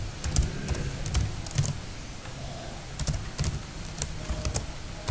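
Arduino code being typed on a computer keyboard: dense, steady clicking of keys at close range, with quick bursts and short pauses, and no speech over it.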